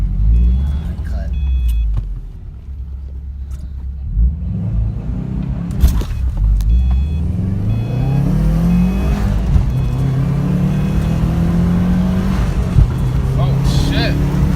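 Subaru WRX engine revving up and accelerating hard from a launch, a rising engine note building and sustaining loud after a quieter idle, with people talking and reacting near the car.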